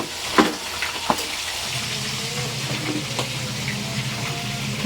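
Food fries in a pan with a steady, fairly loud broadband sizzle, broken by a few sharp clinks of a utensil near the start and again around the middle.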